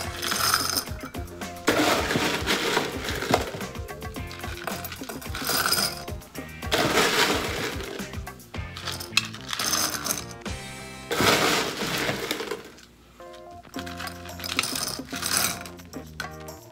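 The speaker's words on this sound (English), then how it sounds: "Let's get our ice ready." Ice cubes drop and clatter into a glass while a grapefruit gin and tonic is made, in several bursts of sharp, close clinking and rattling separated by brief pauses.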